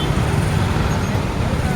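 Road traffic on a rainy day in Davao City gives a dense, close rushing hiss of tyres on wet pavement, with engines rumbling underneath.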